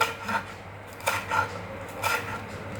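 A kitchen knife slices green chillies into small pieces on a board, giving soft, repeated close cutting and scraping taps at a steady, unhurried rhythm over a low background hum.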